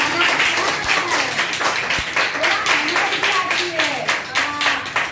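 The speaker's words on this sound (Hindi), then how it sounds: "अरे ताली तो जोरदार होनी चाहिए," Students in a classroom clap together in quick, strong, fairly even bursts, loud and close. Voices sound over the applause throughout.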